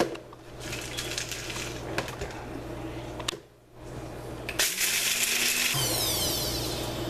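A kitchen blender chops cooked bacon into crumbs: rattling and clinking at first, a short pause, then a loud steady motor whir that rises in pitch and keeps running close by.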